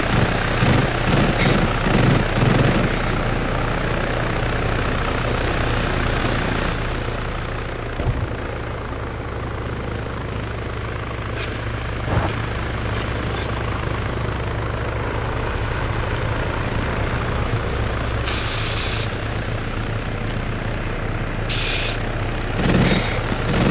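A helicopter flies in ARMA 3 with a steady, loud rotor and engine drone throughout, under scattered sharp clicks and short tonal game effects, with occasional distant bangs early on.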